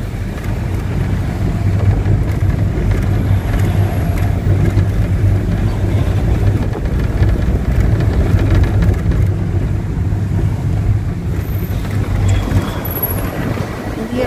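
Cold wind blows steadily across the mountains on the road to Manali, a continuous low rumbling buffet against the microphone that stays loud and even throughout with no talk.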